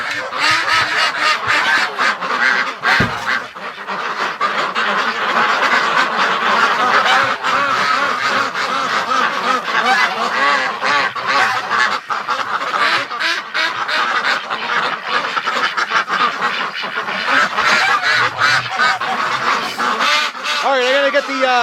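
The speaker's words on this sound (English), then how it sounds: "the ducks, I could tell it wasn't comfortable for them because they were getting loud like this" Loud chorus of wintering ducks and geese shut in a barn during extreme cold, quacking and honking continuously and densely at close range, with a brief thump early on.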